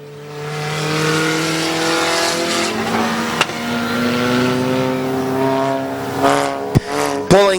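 Race cars at Midvale Speedway drone past loudly, engines holding a rising and falling pitch as they circle, with sharp pops and a final burst of revving near the end.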